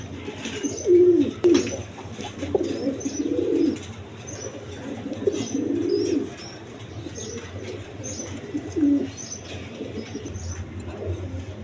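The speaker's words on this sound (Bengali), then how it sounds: "এখানে এক পেয়ার কবুতর আছে" Close by, a pair of tumbler pigeons, a crested male and an uncrested female, coo in several low rolling bursts with pauses between. Wings flap now and then, and small birds chirp faintly in the background.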